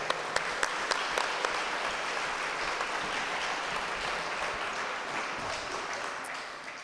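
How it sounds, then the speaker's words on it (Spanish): Parish congregation in a church applauding for an honoured parishioner at an anniversary celebration, a few crisp close claps at the start, then sustained, even clapping from the crowd. "Un aplauso para don Mariano también."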